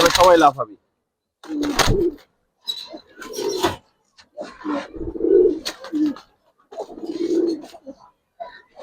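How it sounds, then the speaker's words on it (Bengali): Silver Giribaz pigeons coo nearby in soft, throaty bursts repeated at intervals, with someone speaking between the calls. "এই দেখেন ভাই কবুতর"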